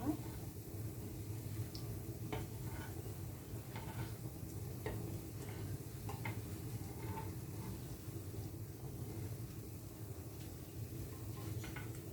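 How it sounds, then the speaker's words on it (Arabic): Sfenj dough fries in oil in a pan with a steady, even sizzle throughout, broken by occasional light taps and clicks. "هنا نحكمها نرميها في المقلاة الدوزيام"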